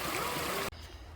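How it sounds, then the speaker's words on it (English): Creek water flowing at a rough, treacherous crossing in Fort Richardson State Park, a steady broadband rush that cuts off abruptly partway through, leaving only a quiet low murmur. "Treacherous creek crossing."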